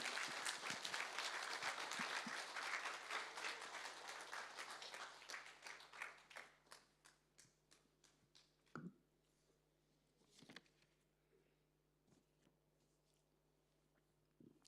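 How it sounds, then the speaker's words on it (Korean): A church congregation gives a big round of applause for returning missionaries: dense clapping that gradually thins over several seconds into scattered, faint individual claps and quiet room sounds. "우리 이 시간에 박수를 한번 크게 박수하겠습니다"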